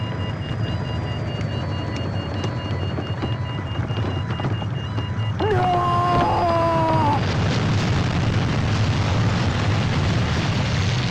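A helicopter crashes in the horror video game Siren 2: a steady droning roar with broadband rumble turns louder and harsher midway, with sliding, shrieking tones and then dense crashing noise. No one speaks.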